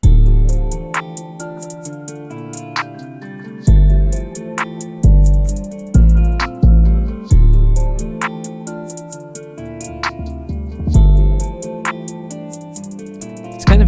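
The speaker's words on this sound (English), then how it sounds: "The beat mixed sounds like this." Mixed electronic beat built in FL Studio 20 with stock plugins: a heavy booming bass kick hitting in a steady groove, with bright hi-hat ticks, punchy percussion and melodic layers, loud and continuous with no voices.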